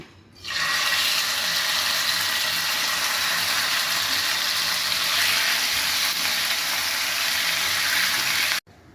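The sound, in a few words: marinated meat frying in oil in a pan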